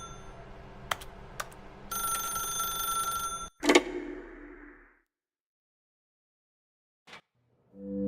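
A telephone rings in The Stanley Parable video game, several sharp bell bursts that then cut off, followed by near silence and a brief later tone.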